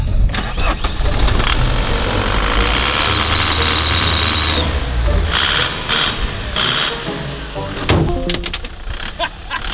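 A car with no tyres fitted, its engine starting and then running loud and close with rattly mechanical noise and scrapes, while voices talk over it.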